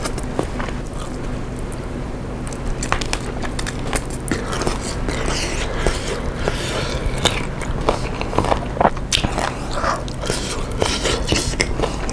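Someone eating spicy Korean instant noodles with KFC spicy chicken, with close, continuous biting, chewing and slurping noises, crunchy bites and mouth sounds filling the whole stretch.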